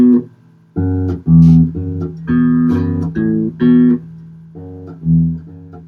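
Bass guitar plucks a bassline in a simple beginner version that skips a fretted note, each note clean, distinct and close against a faint sustained tone, with no voices.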